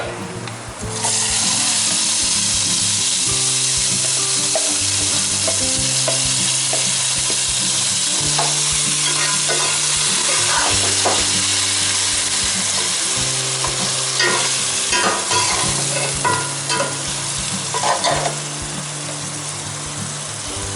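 Chicken sizzles loudly in a pan for Moradabadi pulao while being stirred, with continuous frying hiss and scattered spoon scrapes throughout.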